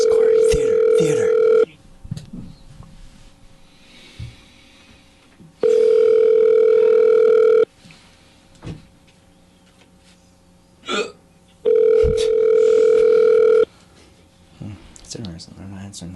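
A hotel phone line plays a steady dial tone in three long bursts of about two seconds, with short pauses of clicks, breaths and faint murmurs between them.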